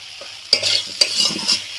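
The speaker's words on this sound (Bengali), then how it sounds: "এই মশলাটা দিয়ে কয়েক মিনিট আমি এইভাবে কষিয়ে নেব" Pre-fried potatoes with sugar, chilli powder and spices are sautéed in a pan, sizzling up close while a spatula scrapes and stirs in two sharp strokes and softer pushes. No one speaks.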